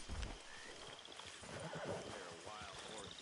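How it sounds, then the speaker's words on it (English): Wild horses in the Red Dead Redemption 2 video game whinny and neigh with hooves clip-clopping, heard faintly and at low level with a voice-like murmur in the mix. "They're wild horses, they were."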